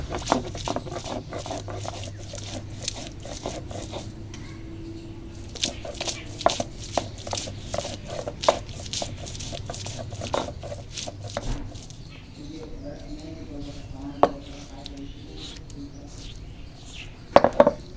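Ginger and garlic crushed and ground into paste by hand, with repeated irregular thuds and scraping, close and fairly loud, while someone talks over it.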